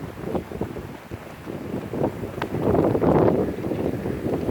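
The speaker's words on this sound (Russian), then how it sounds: "А ветер такой" Strong wind buffets the microphone on a stormy seaside promenade in Konyaalti, Antalya, a steady low roar with gusts swelling midway, with no voices.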